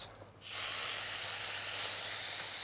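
Beef dropped into a very hot, almost smoking pan of oil for a Korean dish, breaking into a loud, steady broadband sizzle that holds evenly after the meat goes in, with no voices.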